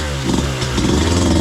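A Beta 200RR two-stroke enduro motorcycle engine revs loud and close in a buzzing, rising drone on a wet trail ride.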